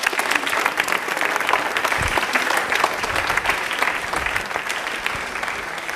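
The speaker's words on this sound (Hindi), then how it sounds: "ताली हो जाए एक बार काजोल के लिए" Studio audience at a televised Indian Railways quiz show applauds a contestant with dense, sustained clapping, loud and even throughout, with no talking over it.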